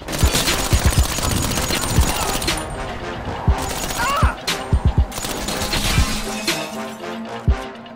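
Rapid bursts of gunfire from the GTA 5 video game, a dense fusillade of sharp shots with reload-style pauses. Glass shatters among the shooting, and a voice talks briefly over it.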